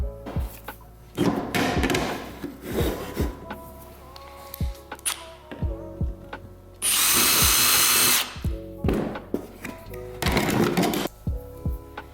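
A power drill whirs in a series of short bursts, with one longer sustained high-pitched run of drilling in the middle, close and clear, drilling a Miata shifter plate.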